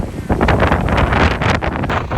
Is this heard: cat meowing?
no